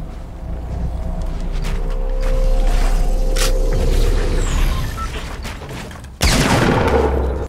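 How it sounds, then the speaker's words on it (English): Gunfire exchange in Fortnite: booming shots and a rumbling fusillade play at moderate distance, followed by a sudden loud close burst near the end. "I just heard them exchange shots"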